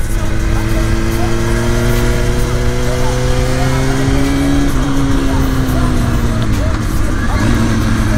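A car's engine pulls hard around a wet race track, its pitch rising steadily through the revs before dropping at a shift, loud and close, with a voice talking over it.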